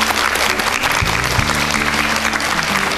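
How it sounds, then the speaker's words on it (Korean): A studio audience at a televised lecture claps loudly and continuously to welcome the lecturer, a dense, even burst of many hands lasting about three seconds with a low hum underneath. "큰 박수 부탁드립니다"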